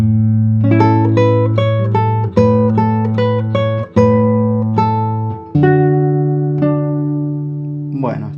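Classical guitar playing a short melodic phrase from a tango, clear plucked notes over a steady bass line, close and clean, ending with a brief spoken word.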